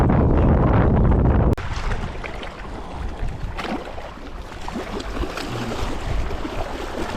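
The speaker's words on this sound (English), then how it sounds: "wind. It's getting windier." Strong wind buffets the microphone at a lakeside bank during crappie fishing, a loud, continuous roar with gusty swells, heaviest in the first second and a half, then steady rushing with rippling water noise.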